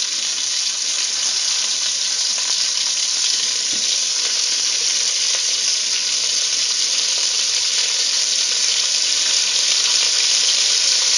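Lean hamburger sizzles steadily in a pan on top of frying bacon and its grease, a constant close, bright hiss with faint crackles throughout.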